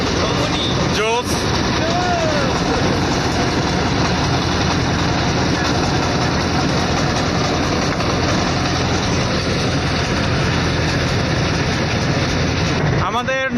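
Motor boat running on the Padma river: a loud, steady engine drone with rushing noise that continues unbroken throughout, close to the listener.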